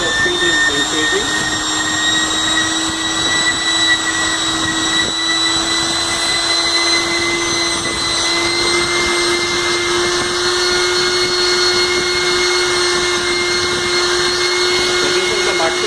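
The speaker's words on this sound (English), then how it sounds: "So this is the function of the rotor stator base homogenizer" WT-500 rotor-stator homogenizer/emulsifier at full speed of 30,000 RPM, a loud steady high-pitched whine with a constant tone throughout, alone and close.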